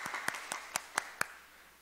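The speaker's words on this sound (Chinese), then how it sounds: "我们再一次鼓掌，" Church congregation at a Sunday Mandarin service clapping for the mothers on Mother's Day: a handful of separate, crisp claps at an uneven pace, fairly quiet and closely miked, that stop after a second or so.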